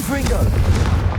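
A Confringo spell blast in Hogwarts Legacy gives a short, loud booming burst of explosion that swells and fades over about a second.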